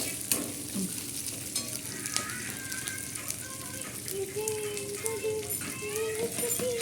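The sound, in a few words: capsicum frying and being stirred in a pan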